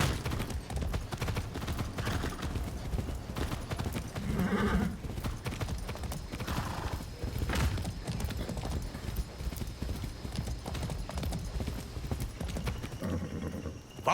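Horse hooves clip-clop steadily at a gallop in the video game Far Cry 6, a continuous close rhythm that runs the whole stretch with a brief whinny partway through and no talking.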